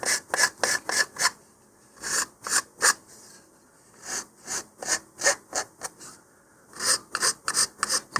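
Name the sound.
filing model rocket parts with file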